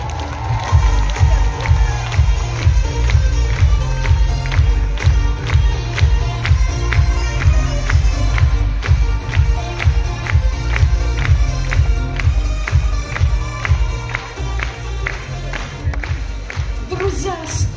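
Crowd at a Faberlic company event in Moscow applauding and cheering loudly as the company's elite director walks onto the stage, with steady rhythmic clapping and a strong beat of music underneath throughout.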